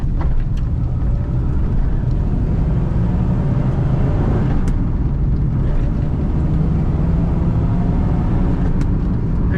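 A 1978 Chevrolet Camaro with a four-speed manual gearbox accelerates on the road. From inside the car, the engine gives a loud, steady, low rumble mixed with heavy road and wind noise, and no one speaks.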